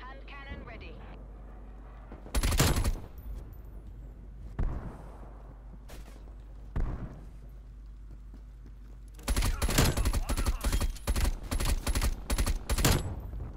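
A hand cannon fires in Black Ops Cold War multiplayer, with a loud single shot early on, a few fainter bangs, then a rapid run of heavy close shots near the end, under game noise.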